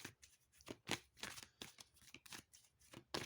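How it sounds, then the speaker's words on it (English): Large silky tarot cards being shuffled by hand, a run of soft riffling bursts and papery swishes repeating every half second or so, close and fairly quiet with no talking. "Even though they're quite big, they do shuffle really, they're sort of silky."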